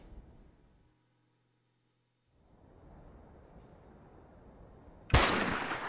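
A sharp, loud burst of gunfire in the Dustland Delivery game lands abruptly near the end and rings out briefly, after a quiet pause and a low rumbling game ambience.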